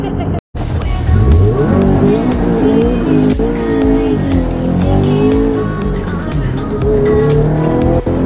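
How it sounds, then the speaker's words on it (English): A car drifts with loud, close engine revving and wavering tire squeal under it, after a brief silent gap at the start. "You really like it when I go drifting?"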